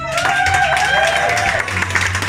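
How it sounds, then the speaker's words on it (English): Scattered applause from a festival audience is heard beneath a loud tonal line and low hum, with the clapping busy but partly masked. "I'm hoping that you'll give them a big round of applause"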